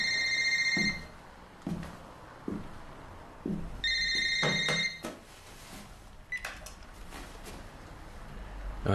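A telephone rings in repeated electronic bursts that go unanswered, with quieter room noise and small knocks between the rings.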